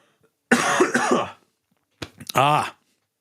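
Two close, loud coughing fits separated by a brief silence, the second ending in a throaty rasp.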